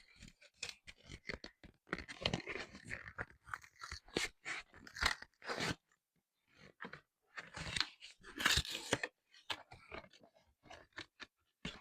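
Crinkly plastic packaging being torn and handled while a Slinky toy is unboxed, with dense bursts of crackling and rustling up close, broken by short pauses.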